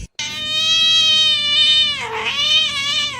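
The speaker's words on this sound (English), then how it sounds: "My cat fucking stuck in the fucking floor." A cat stuck in a floor lets out a loud, sustained, wavering yowl close to the microphone, rising and falling in pitch for about three seconds after a brief silent start.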